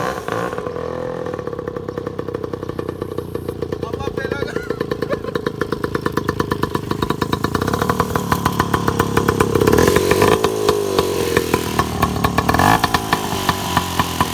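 A motorcycle engine revs loudly and continuously up close, its throaty rumble rising in pitch and intensity near the end.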